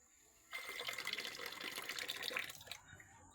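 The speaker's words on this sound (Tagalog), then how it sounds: "Lagyan natin ng tubig konti kasi sobrang init." A little water pours into a container, starting abruptly and running as a steady splashing trickle for about two seconds before stopping, fairly close with no talking.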